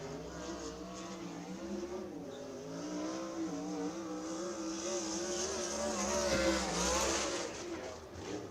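A USAC sprint race car roars through a qualifying lap at Bridgeport Motorsports Park, its engine note rising and falling steadily, then swelling louder as it nears before easing off.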